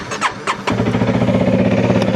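A Honda CRF300L dual-sport motorcycle engine cranks with a few whining starter pulses, then catches and settles into a steady, close, throbbing idle.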